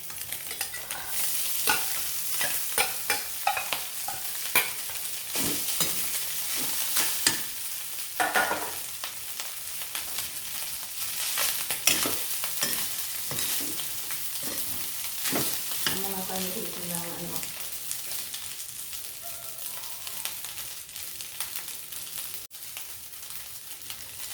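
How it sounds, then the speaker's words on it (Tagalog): Thai pineapple fried rice tossed and stirred in a pan, a long run of busy spatula scrapes and clatter over a continuous sizzle, close and fairly loud, with no talking. "So guys, haluin lang natin ang ating kanin."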